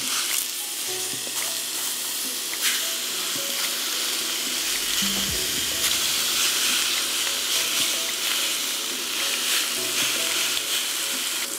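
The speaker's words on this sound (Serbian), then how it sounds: "okrećemo na drugu stranu i pržit ćemo i drugu stranu par minuta" Steady loud sizzling of meat frying on its second side in a hot pan, continuous crackle with occasional soft scrapes and a brief low thump midway.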